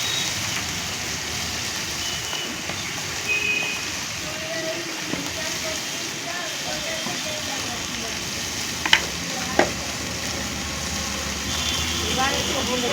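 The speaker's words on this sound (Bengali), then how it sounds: "দিয়ে এইটাকে ভালো করে নেড়ে চেড়ে ভাজা ভাজা করতে হবে।" Hagra stems sizzle in hot oil with fried onion, salt and turmeric as they are stirred in a pan; a loud continuous crackle fills the clip, with a couple of sharp utensil knocks near the end.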